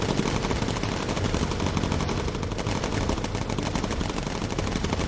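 Dense, continuous machine gun fire from bomber turrets in the video game Bomber Crew, loud and unbroken, a rapid rattle of rounds with no pauses.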